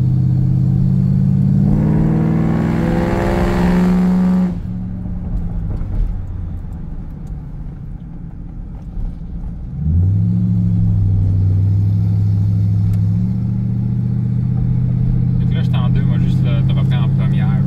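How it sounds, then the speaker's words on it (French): A Ford Crown Victoria ex-police car engine revs up loudly twice, a deep rumbling surge that swells, eases off, then climbs again and holds, with people talking nearby. "dès que tu donnes du gaz, tu montes en haut de, je te dirais, 2300 tours. C'est là que ça sort vraiment."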